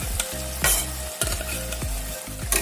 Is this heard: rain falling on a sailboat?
no